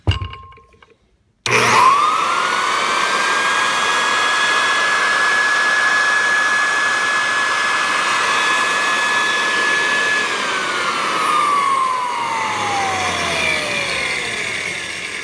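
A Clarke Super 7 floor sander switches on after a moment of quiet, spins up to a loud, steady whine that holds for several seconds, then winds down as it is shut off.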